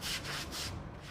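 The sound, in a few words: sweeping flood-damaged house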